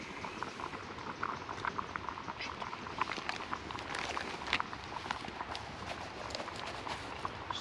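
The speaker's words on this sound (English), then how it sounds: "stew's boiling away." Stew boils steadily in a pot on a bushbox twig stove at a riverside wild camp: a continuous close bubbling and popping with faint crackles, and no voices.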